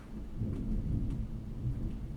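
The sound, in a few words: thunder rumbling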